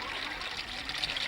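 Water splashes and trickles steadily as it is poured into a pot at a busy water-distribution spot, a soft continuous gushing sound.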